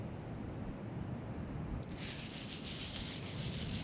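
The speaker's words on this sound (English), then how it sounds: "I'll have one last little dig through this pile" Beach pebbles and sea glass in a pile on a Horden beach are dug and stirred, giving a soft, continuous gritty rubbing and shifting rattle. It becomes brighter and busier partway through, close up with no voices.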